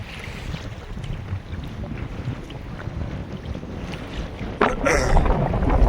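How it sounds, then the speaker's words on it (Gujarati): Strong wind gusting and roaring steadily around a fishing boat at sea, with a louder, rougher burst near the end; no voices. "પવન એવો છે ને સુસાટી બોલે"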